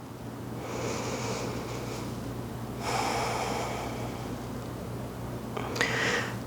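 Deep breaths during an aerial yoga class: long, airy inhales and exhales close to the microphone over a steady low hum, with no talking.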